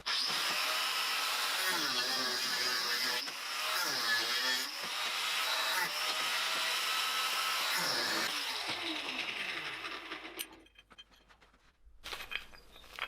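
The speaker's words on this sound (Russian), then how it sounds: "Ну вот так вот свариваем сейчас." Steel angle being welded into an anti-tripwire hedgehog frame, a steady loud crackling hiss running continuously for about ten seconds before stopping, followed by quieter scattered noise.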